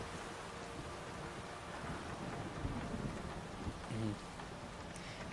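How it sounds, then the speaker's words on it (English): Steady rain and thunder in the video game Mafia II pour down in a dense, broadband wash with a low rumble underneath, continuous throughout with no voices. "That's a storm coming down."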